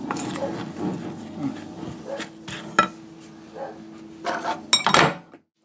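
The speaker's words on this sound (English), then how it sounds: "I'm just going to give that a quick stir" A spoon stirs cinnamon donut muffin batter in a bowl, giving irregular scraping clinks and soft knocks against the bowl's side, with a few sharper taps near the end; close and moderately loud, no talk.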